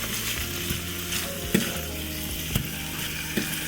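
Seasoned taco meat fries in a pan over lower heat, giving a steady close sizzle with a few sharp scrapes and taps from a fork stirring it.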